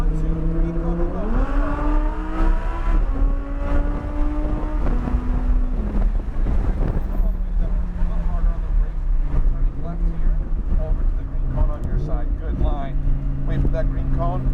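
A car driven on a cone course, its engine droning loudly with pitch climbing in steps as it accelerates and shifts, close up, with wind buffeting and an instructor talking throughout.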